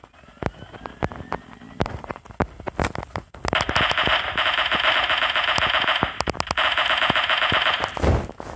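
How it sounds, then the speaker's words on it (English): Gunfire in the battle game PUBG, sharp single shots cracking at intervals, then a sustained vehicle engine roar under further rapid bursts of shooting, fairly close and loud. "Someone's shooting at this vehicle. I saw a sight of gunfire."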